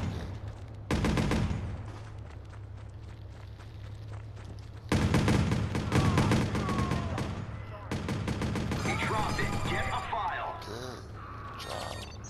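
Rapid bursts of video game gunfire tear through shipping containers, loud repeated volleys with short pauses and occasional footsteps, while players talk over the shooting.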